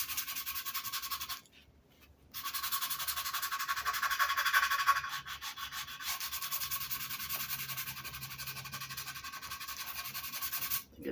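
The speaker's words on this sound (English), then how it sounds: "we're gonna sand it down and try to raise some of that grain back out" Sandpaper of 220 grit rubs steadily over a Les Paul guitar body to raise the wood grain, a close, continuous scratchy hiss that pauses briefly once and then resumes.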